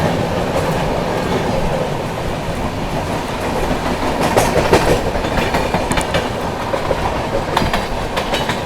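The 12450 Goa Sampark Kranti Express accelerating on rails, heard as a loud continuous rumble with rhythmic clickety-clack of wheels over joints and occasional squeaks.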